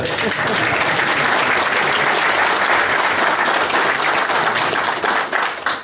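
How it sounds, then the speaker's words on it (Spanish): A church congregation applauds two young children, a loud, dense burst of clapping that holds steady for several seconds before trailing off at the end. "Démosle un aplauso."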